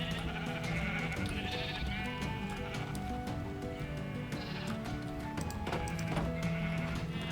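A flock of sheep bleats over and over in a farming survival video game, several overlapping calls against a steady background with faint clopping, and no speech.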